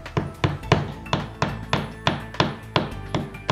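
Nails are hammered into a wall to fix a sawtooth hook, eleven or so sharp, evenly spaced hammer blows landing roughly every third of a second, close and clear with nothing else underneath.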